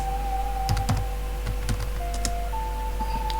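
Computer keyboard typing a terminal command, a quick run of close, crisp keystrokes over a steady electrical hum, with no voice.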